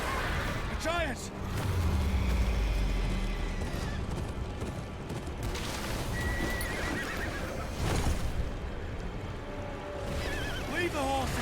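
Horses whinny sharply while hooves clatter in a busy, noisy video game battle scene in Game of Thrones: Kingsroad; voices shout over the commotion.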